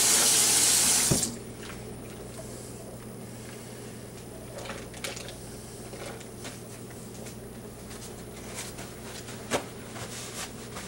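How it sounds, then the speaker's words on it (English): Tap water runs loudly over a brisket being rinsed for Texas-style smoking, a steady rushing splash for about a second before it cuts off and leaves a quiet room. "Rinse it off just a little bit."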